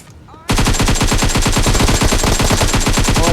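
Rapid automatic gunfire in a video game bursts in after a brief quiet moment and continues as a loud, steady stream of shots.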